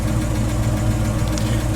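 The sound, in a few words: 1967 Ford Mustang engine idling with exhaust leak tick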